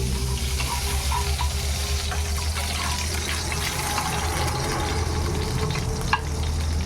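Ghee goes into a hot pan for Dharwad peda, giving a steady, close sizzle with soft liquid and stirring noise throughout and a faint clink near the end.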